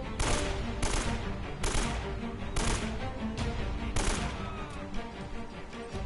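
Gunshots ring out in the action game Uncharted: Drake's Fortune: loud single cracks, spaced roughly a second apart, each with a short echoing tail.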